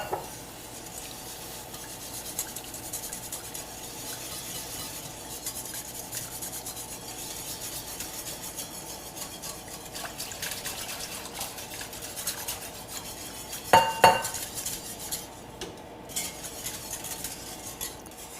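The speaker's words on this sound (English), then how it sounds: "now I can put the heat back on as I keep whisking in the remaining stock" A whisk stirring stock into a roux gravy in a pan on the heat: steady, soft scraping and rubbing with faint metallic clinks, continuous and close, with a brief louder clatter near the end.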